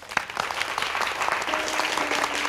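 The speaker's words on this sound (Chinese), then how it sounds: "鼓掌" Police station staff applaud in an office gathering, a lively round of close clapping that holds steady, with a faint voice slipping in near the end.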